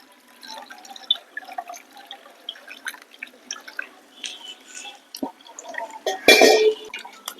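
Water trickles and drips into a pot of tamarind rasam in small splashes, with a louder burst of pouring and splashing near the end.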